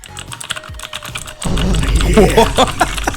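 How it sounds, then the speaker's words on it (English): Custom-built mechanical keyboard with tactile switches being typed on. A quiet stretch gives way to dense, loud, rapid clacking of keystrokes close to the microphone. "My dream gaming setup would have to have the clackiest, most satisfying sounding keyboard."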